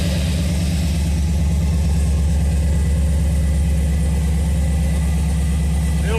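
A cammed 5.3L V8 idles after its first start, running rich with a loud, steady low rumble and a rhythmic lopey pulse throughout, close to the microphone.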